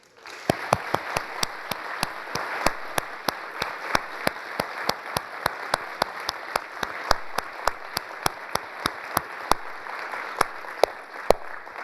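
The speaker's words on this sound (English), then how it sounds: "have a round of applause for that event staff and our DARPA Forward" An audience at a DARPA event applauds the event staff and planning team, a steady wash of clapping from a modest crowd with sharp, regular individual claps from someone close by standing out throughout.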